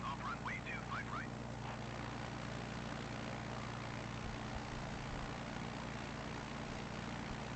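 Airliner taking off in Microsoft Flight Simulator 2020, a steady broadband engine roar with a low hum held throughout, with faint chirp-like sounds near the start.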